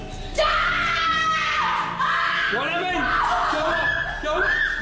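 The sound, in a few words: woman screaming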